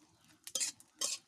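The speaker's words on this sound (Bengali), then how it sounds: "এই যে কয়েকটা শুকনা মরিচ ভেজে নিচ্ছে।" Dried red chillies fry in oil in a wok on an outdoor stove, with two sharp scraping stirs of a utensil against the pan over a faint sizzle.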